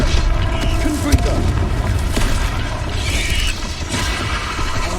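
Fiery Confringo spell blast in Hogwarts Legacy, a loud booming burst with crackling, mechanical rattles over dense continuous game noise.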